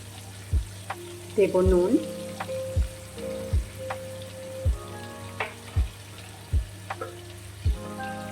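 Shrimp frying lightly with salt in a pan for a shrimp and pointed gourd curry, giving a steady close sizzle broken by repeated low knocks of stirring, with a brief spoken phrase partway through.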